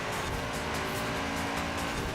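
An Audi RS6 in Forza Horizon 4 drives hard with a steady engine roar and continuous tire squeal, loud and close throughout with no talking.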